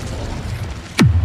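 A Petrificus Totalis spell is cast in Hogwarts Legacy as a single loud, fast downward-sweeping zap that settles into a low hum after a quiet rumble.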